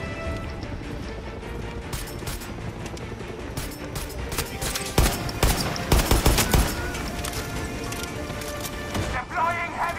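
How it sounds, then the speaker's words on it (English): Gunfire and explosions erupt in the Far Cry 6 campaign: a dense, continuous crackle of rapid automatic fire with heavier blasts and crashes stacking up through the middle, loud and close throughout. "There's so much explosives going on."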